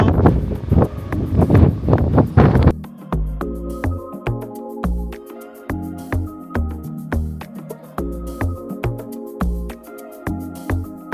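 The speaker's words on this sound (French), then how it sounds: "Les gars, il y a trop de vent." Strong wind blasts a microphone outdoors as a roaring, gusty rush for the first few seconds. It then cuts off and gives way to rhythmic music with sharp percussive hits.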